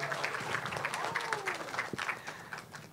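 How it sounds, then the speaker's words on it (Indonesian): Talkshow audience applause, a soft, fairly distant patter of many hands clapping in a hall, steady and even, with faint voices underneath. "Kita berikan tepuk tangan untuk Bapak Henderson Lim dan Ibu Stefani Wijaya."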